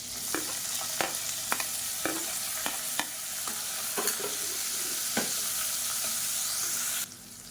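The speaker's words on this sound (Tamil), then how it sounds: "இப்போ நீளமாக நறுக்குன்னா பெரிய வெங்காயம் சேர்த்துக்கலாம்." Sliced large onions sizzle and fry in oil with fennel, curry leaves and slit green chillies, with a steady crackle and occasional stirring clinks, close and continuous.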